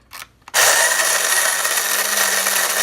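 Home-roasted coffee beans are fed through a grinder set to fine, opening with two short bursts before a loud, steady whirring grind that runs on continuously, close by and alone.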